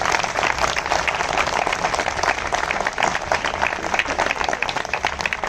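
Applause from the audience at an outdoor protest speech on the eleventh day of a sit-in hunger strike, a steady, even wash of scattered clapping lasting several seconds with no voice over it.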